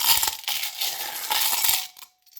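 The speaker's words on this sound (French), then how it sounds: "Je vais sélectionner les breloques." Small metal divination charms being picked out and dropped, a bright jingling clatter of many little pieces shaking and tumbling together for about two seconds before going quiet.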